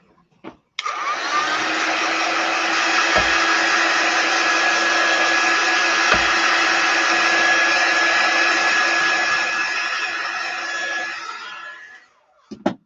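A hair dryer runs close and loud for about eleven seconds, drying a chalk paste design on a board, a steady whooshing roar with a faint whine, switched on and off with clicks.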